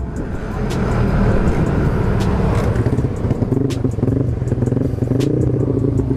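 A Honda Beat ESP 125cc scooter fitted with an Empush EM1 round exhaust rumbles close by, a steady throbbing engine note with faint clatter and occasional ticks.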